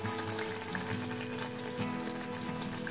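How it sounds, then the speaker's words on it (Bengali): Okra slices fry in hot oil in a pan, giving a steady, close crackling sizzle that carries on without a break, with a few brighter pops and no voices. "এবার আরও একদিক ভেজে নিচ্ছি"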